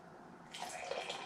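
Enegren Brewing Nighthawk Schwarzbier beer pours from a freshly cracked container in a steady, close liquid splash with a brief fizzing rush, heard alone without talk.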